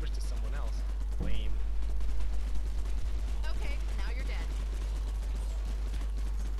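Gunfire rings out in the zombie video game Zombies Apocalypse Never Die Alone as scattered, sharp shots pop in irregular bursts, mixed under excited voices talking throughout.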